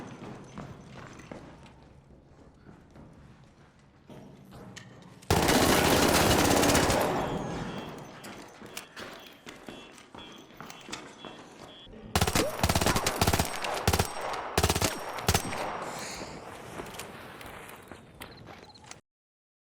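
The Stitcher gun in Arc Raiders fires at a very rapid rate, sounding like a loud, dense rattle in two long bursts. Lighter clicking and quieter stretches come between and around the bursts.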